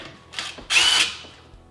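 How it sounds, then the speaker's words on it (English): A power screwdriver briefly whirs as two screws come out of a TV wall mount plate, a short burst then a louder, longer buzz of under a second, close by and alone. "take those two screws off so I can pop this plate off"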